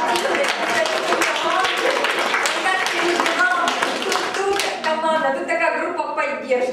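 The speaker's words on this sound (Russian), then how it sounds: "Ой, это надо аплодисменты" A group applauding in a company workshop, busy clapping mixed with voices talking over it, thinning out toward the end.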